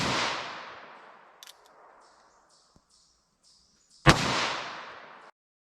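A short-barrel single-action .22 Magnum revolver fires into ballistic gel outdoors, two sharp, loud close shots a few seconds apart, each trailing off in a brief decaying echo, with faint clicks of handling between them.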